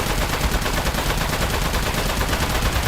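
Dense, continuous gunfire in the video game Aperture Desk Job, steady, rapid rattling shots that fill the whole stretch at a constant, loud level with no pause.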